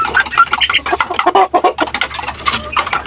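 Pet chickens cluck and chatter continuously at close range, with dense overlapping calls and no talking.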